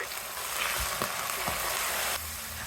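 Chicken leg pieces fry in a pressure cooker with chili powder, turmeric and salt, giving a steady close sizzle broken by a few soft scraping thuds as a spoon stirs the pieces.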